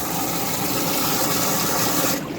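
Water from a pond filter drain blasts out in a loud, continuous rushing gush, steady and close throughout before cutting off abruptly at the end.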